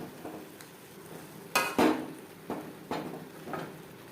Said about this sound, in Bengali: আলু ও কাঁচকলার সাথে মশলা কষিয়ে নেব